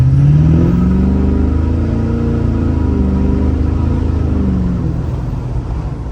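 An LB7 Duramax diesel pickup with a CTS3 tuner pulls at about half throttle, its engine droning loud and steady with rising tone for several seconds, close by and with no talk over it.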